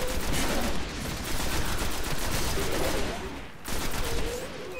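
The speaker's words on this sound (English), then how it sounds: "I'm shooting the crap out of them." Sustained automatic gunfire from the video game Destiny on Venus rattles in dense rapid bursts, loud and close, with two short pauses between volleys.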